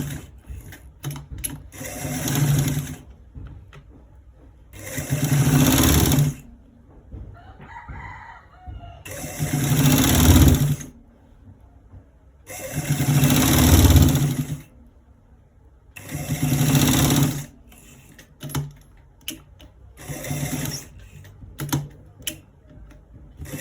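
Sewing machine stitching a short sleeve, running in five or six loud bursts of a few seconds each, separated by brief quieter pauses with small handling clicks.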